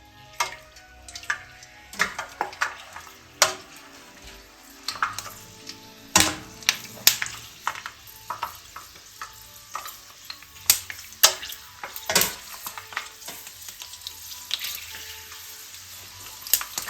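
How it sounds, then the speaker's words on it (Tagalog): Strips of dried pork skin fry in hot, bubbling oil for chicharon, with a steady crackling sizzle punctuated by frequent sharp pops and spits, close and alone with no talking. "Medyo kumukulo-kulo na yung mantika."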